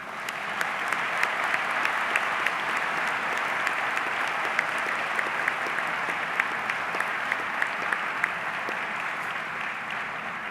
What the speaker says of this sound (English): A round of applause from the students